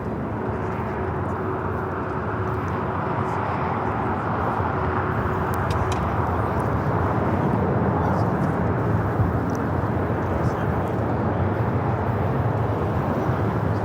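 An American Airlines 737 MAX 8 departing LAX for Raleigh-Durham gives a steady, loud broadband jet roar that holds throughout, with a faint distant hum underneath and no pauses.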